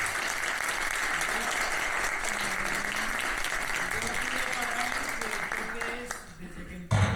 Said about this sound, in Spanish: Y yo pido un fuerte aplauso para mi director.